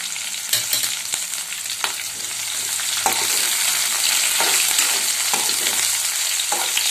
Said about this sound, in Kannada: ಮೆಣಸಿನಕಾಯಿ ಮತ್ತು ಈರುಳ್ಳಿ ಇದು ಸ್ವಲ್ಪ ಮೆತ್ತಗಾಗೋ ಚೆನ್ನಾಗಿ ಏನು ಮಾಡಬೇಕು, ಬೇಯಿಸ್ಕೋಬೇಕು